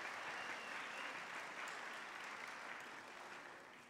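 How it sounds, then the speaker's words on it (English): Audience applause at a middle school winter instrumental concert after a ukulele band performs: a dense, even wash of clapping that holds steady and then slowly fades toward the end. "let's give them a round of applause for that"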